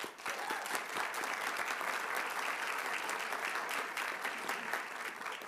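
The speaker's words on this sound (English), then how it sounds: "So let's give them a round of applause." Steady round of applause in a county board of supervisors meeting room honoring a championship water polo team, many hands clapping evenly and continuously at moderate volume with no voices over it.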